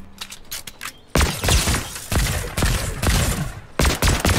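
Bursts of loud rapid gunfire from a gun in Fortnite, several sharp volleys separated by brief gaps, following a quieter stretch of faint clicks and mechanical sounds.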